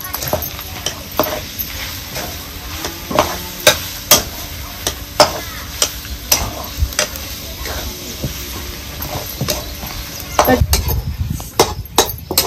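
Coarsely crushed peanuts sautéed in a pan for vada pav, with loud, repeated scraping and clinking stirs over a continuous sizzle, close up and with no talking.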